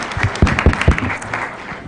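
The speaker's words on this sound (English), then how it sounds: "please clap for your moderator" Audience at a Supreme Court conference applauding the panel moderator, a brief burst of many hands clapping, strongest early and then tapering off within two seconds.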